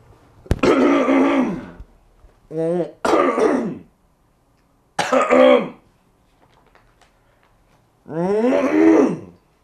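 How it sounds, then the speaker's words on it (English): A man clears his throat loudly several times with rough, gravelly bursts and a cough, separated by short silences, close to the microphone. "making some coughing and trying to clear his throat like he was going to sing some opera"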